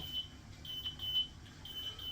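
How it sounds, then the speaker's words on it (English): A one-hour timer sounds in a room during brewing, giving a faint, steady series of high electronic beeps repeating at a regular pace against a quiet background. "So as you can hear, that is the end of the 1 hour timer."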